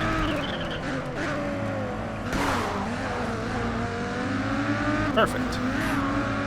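Race car in Race Driver: Grid, an NSX, losing traction with tire squeal and engine drone through turns, steady and loud, a brief voice speaking over it.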